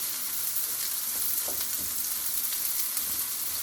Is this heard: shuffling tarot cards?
no